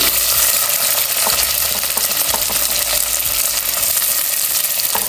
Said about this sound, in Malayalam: എണ്ണ നല്ല ചൂടായി വരുമ്പം അതിലേക്ക് വറ്റൽമുളക് പിന്നെ കുറച്ച് കറിവേപ്പില ഉള്ളി